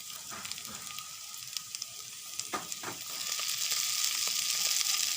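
Noodles hit a hot pan and sizzle steadily, a close, soft frying hiss with scattered pops and light stirring clinks that grows fuller and denser toward the end.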